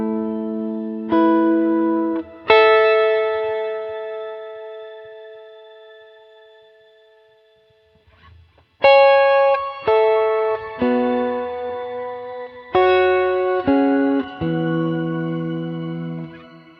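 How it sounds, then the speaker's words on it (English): Guitar notes played through a shimmer reverb pitch effect on a Line 6 Helix ring out as bright, layered chords with octave-up shimmer, decaying slowly after each strum, then a second sequence of quicker chords. "It's a shimmer reverb."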